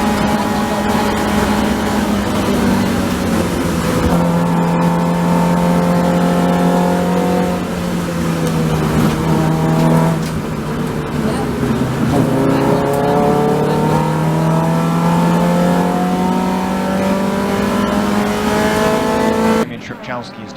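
Race cars at Cadwell Park during a TDT race howl past with engines revving and shifting through gears, loud and continuous, pitch climbing and falling as they accelerate and pass, with commentary talking over the engine noise.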